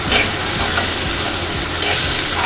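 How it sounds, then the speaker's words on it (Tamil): Chopped banana flower frying and being stirred in a kadai: a loud, continuous close sizzle with soft scraping strokes beneath, and no voices. "இப்போ நம்ம இந்த வாழைப்பூவை போட்டு நல்லா இப்படி கிண்டி விட்டுருவோம்"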